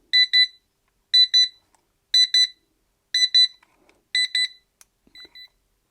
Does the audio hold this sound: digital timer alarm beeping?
yes